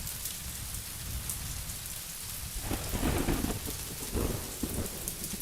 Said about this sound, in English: The rain is so loud.